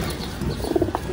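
Pet pigeons in a home loft coo softly at close range in a brief, low burst with a couple of throaty pulses.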